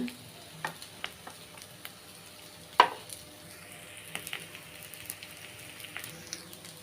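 Sweet potato paniyaram cooking in a little oil in a pan gives a faint, soft crackle with scattered small pops and one sharp clatter early on.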